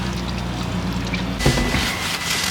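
Engine oil draining from a 2023 Ford F-150 5.0 pours in a steady liquid stream, surging louder and fuller partway through as the flow picks up, close with no talk.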